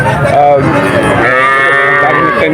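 Calves and cattle at a cattle market moo loudly and close in a long, drawn-out call that fills the whole moment.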